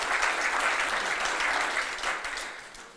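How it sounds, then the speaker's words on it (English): An audience at an awards program applauds steadily, a dense wash of clapping that holds strong and then slowly tapers off toward the end. "Give yourself an applause"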